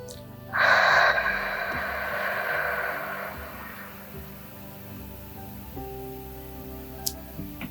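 A long, strong exhale rushes out during a resistance band stretch with a Pilates ring, loud and close at first and then tapering off into quiet breathing and faint background clicks.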